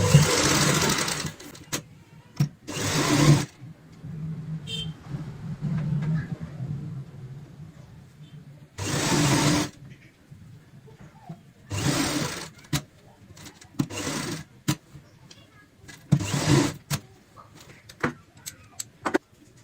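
Sewing machine stitching a strip for a cushion cover, running in several loud, close whirring bursts of a few seconds each, separated by quieter fabric handling and small clicks.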